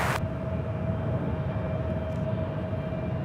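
A steady, heavy roar comes from airliners taking off one after another at Charlotte Douglas International Airport. The jet rumble is low and continuous, fairly loud from a moderate distance, with no talking.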